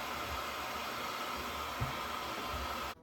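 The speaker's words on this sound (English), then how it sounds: "Go ahead and get the vacuum and catch all this stuff too." A vacuum cleaner runs close and steady while cleaning a UTILITEC bathroom vent fan heater, a constant broadband whoosh with a brief bump near the end before it cuts off.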